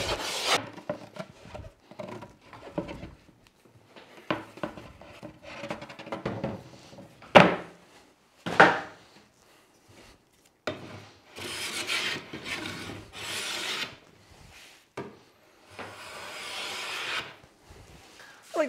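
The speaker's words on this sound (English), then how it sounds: "we are all planed up and more or less sanded up, ready to go" Old wooden furniture being planed and sanded for upcycling into a whiskey and wine rack, with close, uneven bursts of rasping, rubbing strokes separated by short pauses and a few sharper knocks.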